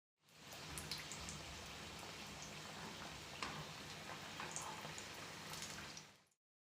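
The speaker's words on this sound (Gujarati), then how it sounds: "હવે તેમાં આ રીતે એક એક ટિક્કી ઉમેરતા જઈએ અને બંને સાઈડ સારી રીતે તળી લઈએ" Potato vada patties frying in hot oil, a soft, steady crackling sizzle with fine popping bursts that fades in and out.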